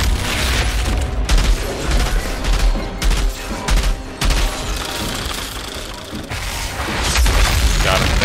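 Sustained gunfire in Outriders with loud, dense bursts of shots and heavy booms, continuous across the clip with brief lulls and quick follow-up volleys.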